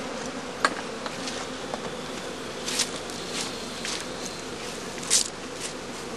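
Bees buzzing around an open straw skep, a steady low insect hum that fills the whole stretch, with a few louder close buzzes passing by.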